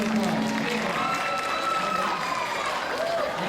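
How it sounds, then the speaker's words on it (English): Audience applause for speakers at a James Ferris High School event, a steady wash of clapping from a crowd throughout, with a voice and some cheering over it. "Let's give these speakers a big, big round of applause."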